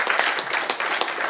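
Short burst of audience clapping at a late-night voice actor panel at a media expo, a scattered crowd of hands patting unevenly and briefly before fading.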